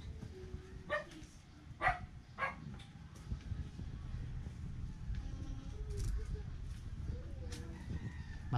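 A few sharp dog barks ring out early, spaced about a second apart, over steady outdoor background noise with faint bird calls.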